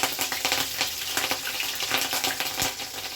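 Four green chillies fry in hot oil in a pan, giving a steady crackling sizzle with rapid spattering pops that holds at an even, fairly close level, with no voices over it.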